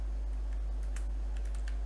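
Computer keyboard keys click in a short burst of typing over a steady low hum as a command is entered in Linux.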